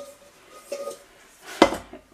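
Pots and utensils clink while soup ingredients are cut up in a home kitchen, with faint knocks and then one sharp metallic clank near the end.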